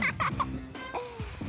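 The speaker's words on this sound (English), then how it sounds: "Look at those big old ducks over there." Big ducks at a zoo give short, nasal clucking and gobbling calls, several quick honks in a row followed by a couple of falling squawks, fairly faint and close.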